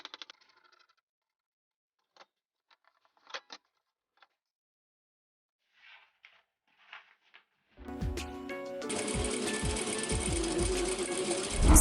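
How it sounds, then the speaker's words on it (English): A sewing machine stitches a silk organza jacket mock-up with a fast, steady mechanical whirr and rattle starting partway through, preceded by quiet scattered clicks and handling sounds. "So I quickly sewed basically just lower and upper body pieces together"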